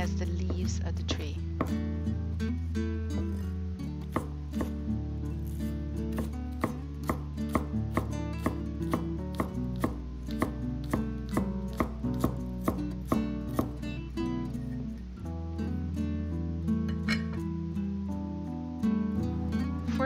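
Knife chopping scallion and red chili pepper into rings on a cutting board, a rapid series of crisp, close taps in an even rhythm under steady background music.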